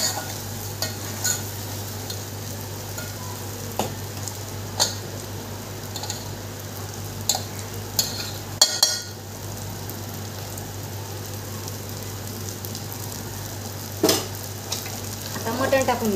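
Masala frying in oil as it is stirred, a steady low sizzle with occasional scraping clicks of the spoon throughout, fairly close and moderate in level.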